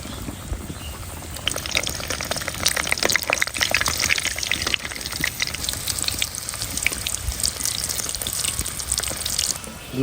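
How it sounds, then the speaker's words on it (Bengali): Rui fish puli pitha dumplings deep-frying in hot oil, a steady, dense crackling sizzle that rises after a quiet start and carries on evenly throughout, with no voices. "গরম তেলে আমি পিঠাটা দিয়ে দিচ্ছি"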